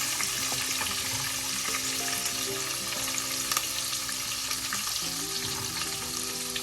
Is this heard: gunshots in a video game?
no